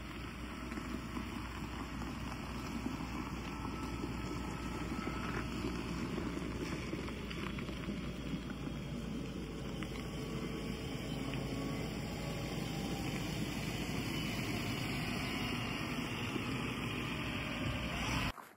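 A loaded vehicle reverses in on a road building site, its engine rumbling in a steady low drone with wind noise on the microphone and a faint high reversing tone throughout.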